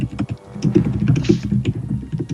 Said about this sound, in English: Tapping the keyboard loudly.